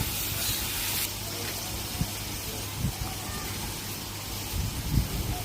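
Sausage and liver frying with peppers in a pan as they are stirred, a steady hiss and sizzle with a brief brighter spray of sizzle at the start and occasional soft knocks of the spoon.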